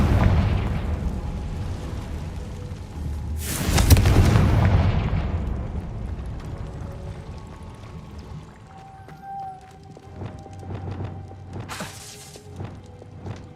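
A Confringo spell in Hogwarts Legacy bursts in a single loud, sharp explosion that rolls off into a rumbling decay, followed later by a few smaller distant cracks and pops.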